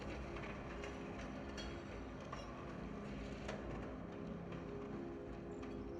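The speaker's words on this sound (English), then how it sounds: "the train sounds that they're playing are sounds that you would hear if you were outside the train" Recorded train sounds as heard from outside a passing train: a faint continuous rolling rumble with scattered wheel clicks and occasional light squeals, steady throughout and free of talk.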